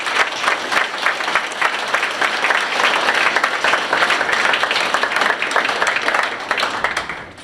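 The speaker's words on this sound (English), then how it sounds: "So again, round of applause for these guys." Sustained applause from an audience honoring students at a school pathway celebration, dense steady clapping holding at a loud even level for several seconds before tapering slightly at the end, with no voices over it.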